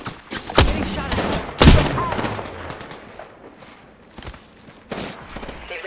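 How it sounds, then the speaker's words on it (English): Video game gunfire, two loud close shots near the start followed by scattered quieter shots and impacts, with game voices talking between them. "Getting shot at."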